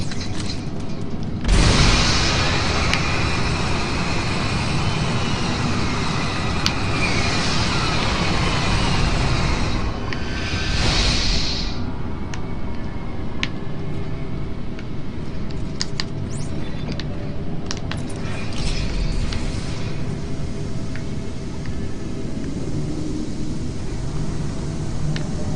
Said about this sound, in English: Oh, right. Those are thrusters.